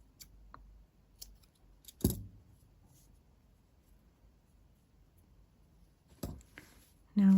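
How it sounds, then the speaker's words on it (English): Scissors snipping off excess yarn while weaving in the end of a crocheted dress, two sharp, close clicks several seconds apart over a quiet background, with a brief louder rustle at the very end. "and then cut the excess."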